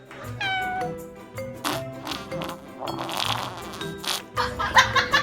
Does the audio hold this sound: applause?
no